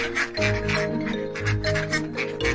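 Rhythmic nasal quacking repeats several times over a steady, tonal musical backing, loud and close.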